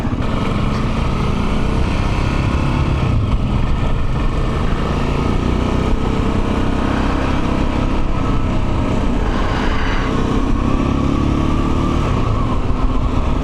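A Janus Halcyon 250 or Gryffin motorcycle engine drones steadily at close range, its revs held high and buzzing throughout with no voices.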